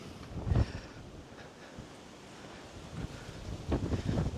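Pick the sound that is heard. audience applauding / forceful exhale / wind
wind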